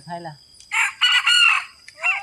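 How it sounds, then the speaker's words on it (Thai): A rooster crows nearby, one loud drawn-out call broken into bursts, after a brief sound at the start. "ไก่ขัน"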